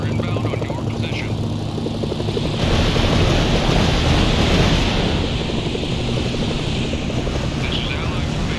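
Approaching aircraft engines drone loudly in the Mercenaries video game, a broad rumbling roar that swells around the third second and holds steady, with a faint game announcer voice mixed underneath.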